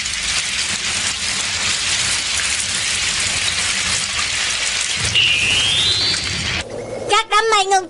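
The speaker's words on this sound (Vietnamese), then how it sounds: "Các đám mây ngưng tụ lại thành mưa." Steady rain hisses down from the clouds in a Doraemon cartoon scene, a dense even wash of noise for several seconds before a voice starts speaking near the end.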